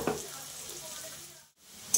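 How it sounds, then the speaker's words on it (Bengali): Onions sizzle steadily in a hot pan as a ground paste of dried chilli, ginger, cumin, garlic and tomato goes in, giving a soft continuous frying hiss with a brief lull and a sharper sizzle at the end. "দেখো পেঁয়াজটা তো ভাজা হয়ে গেছে, এবার আমি মশলাটা দিয়ে দিচ্ছি।"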